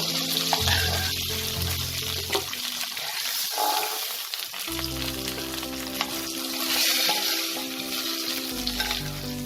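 Pieces of katla fish frying in hot oil, a dense continuous crackling sizzle heard up close, with brief dips and sporadic clatter from handling the pan, no talking.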